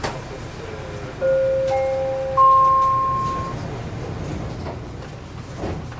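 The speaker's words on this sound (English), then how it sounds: "This train is for Waterfront." A Canada Line metro train rumbles along with rising and falling tonal hums from the motors, steady and moderately loud, with no talking.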